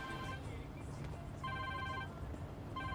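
A telephone rings in a Hindi movie scene, with repeated electronic ring bursts standing out clearly over a steady background of room noise.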